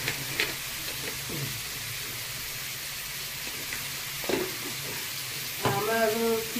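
Shrimp malaikari masala with bay leaf sautés in a pan, a steady close sizzle with occasional scrapes and stirring clatter, and a brief tonal clink toward the end.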